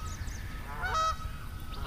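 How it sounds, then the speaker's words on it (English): A goose honks once in a short, nasal burst near the middle, with faint bird calls and low outdoor rumble around it, at a lake. "The geese are serenading me here."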